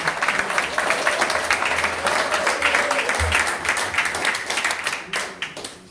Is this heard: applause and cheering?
yes